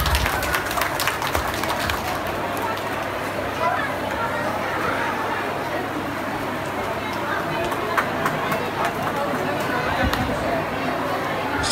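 Sustained applause from an audience at a welcome ceremony held by a Nepali diaspora association in Ludhiana, India, steady and dense for the whole stretch, with voices mixed into the clapping.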